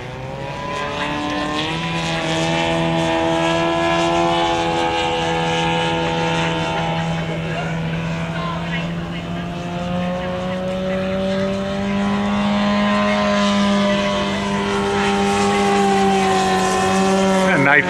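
Propeller engine of a 50% scale Christian Eagle model aircraft at an air show, a steady loud droning hum with rising and falling pitch as it climbs and manoeuvres, continuous throughout with someone talking over it.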